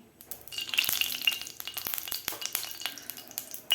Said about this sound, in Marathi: कढईमध्ये आपल्याला एक चमचा साजूक तूप घालायचं आहे